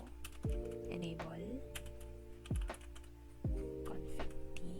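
Router commands are typed on a computer keyboard, giving quiet, close clicking keystrokes in uneven bursts, with a few heavier key thunks and a soft steady background hum.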